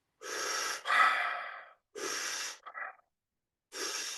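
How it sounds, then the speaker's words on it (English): Deep, forceful breaths for a Tumo breathing exercise, heard up close: a long rushing inhale and exhale, then another strong breath with a few short sniffs, and a final breath after a pause. "into the Tumo breathing."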